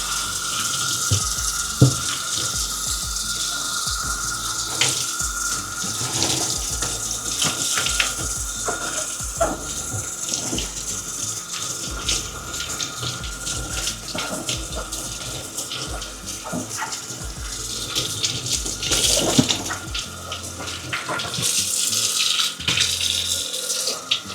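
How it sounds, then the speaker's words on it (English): Muddy Lucchese Kip leather cowboy boots being rinsed under a running tap, with a steady close rush and splash of water filling the clip and shifting as the boots move through the stream. "Alright, now we go and wash it. Wash it all off."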